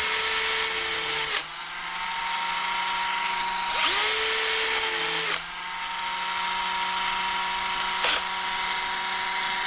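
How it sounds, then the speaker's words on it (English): A power drill whines in two long, high-pitched runs, spinning up and winding down with a brief burst near the end, loud and close, while building the differentials of an HB Racing E819RS model car. "hit it with a drill."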